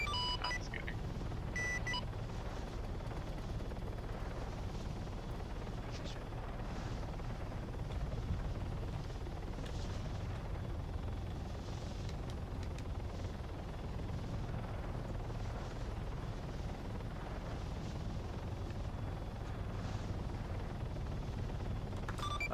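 Chinook transport helicopter in the ArmA 3 military game, a steady low rotor drone and engine roar holding loud and constant throughout, no talk.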